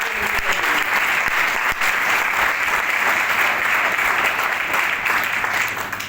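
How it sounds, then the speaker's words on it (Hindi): Loud, sustained applause from a seminar audience, many hands clapping in a thick continuous wash that stays steady and close for about six seconds. "इसलिए जोरदार ताली दोस्तों"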